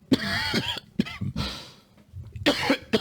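Several sharp coughs come in bursts, a quick pair at the start, another round in the middle, and a final cluster at the end, close and fairly loud.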